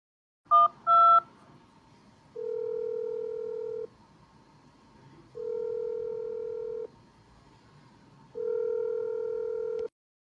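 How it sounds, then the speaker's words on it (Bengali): A telephone number is keyed on a phone: a quick pair of dialing tones, then three long, steady ringback tones separated by silences, clean and close. "রাখহরিকে চা করতে বলে আমার উকিল বন্ধু রণেন্দুকে একটা ফোন করলাম"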